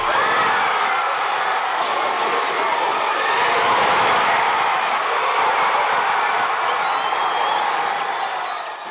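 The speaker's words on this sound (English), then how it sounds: "front of a roaring crowd." A big crowd roars and cheers at a National Rugby League match, a dense sustained wall of shouting and whooping that swells slightly midway and stays loud throughout.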